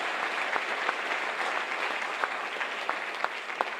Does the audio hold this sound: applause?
yes